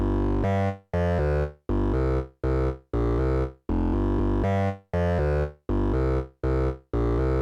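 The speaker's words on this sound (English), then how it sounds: "You're just going to hear a synthesizer bass part that sounds like this." A distorted, gritty synth bass plays a rhythmic pattern of short, punchy notes separated by brief gaps, loud and alone.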